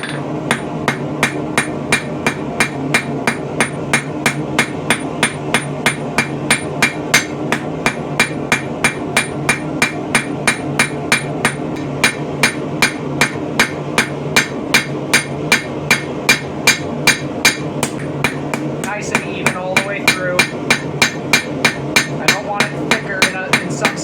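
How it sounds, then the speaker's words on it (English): Rapid, evenly spaced blows from the cross peen of a hammer ring out on a hot steel arrowhead being drawn wider, loud and close, a long continuous series of sharp metallic strikes with a ringing tone. "we're going to use our crossbeam side of our hammer here to start drawing it wider and wider."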